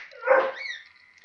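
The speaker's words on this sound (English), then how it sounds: "Sorry, that was my dog." A pet dog gives one short bark somewhere in the room, fairly faint and a little distant, trailing off into quiet.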